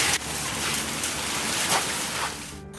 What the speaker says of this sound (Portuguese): a chuva forte assustou moradores